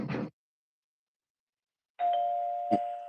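A doorbell chime rings out after a short burst of noise and a long silence, a sustained electronic tone with a second strike near the end.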